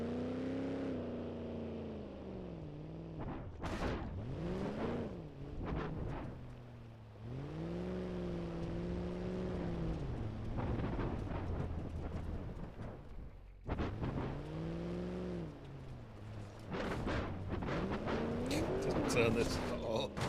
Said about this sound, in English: I need to get out of this truck anyway because it's so loud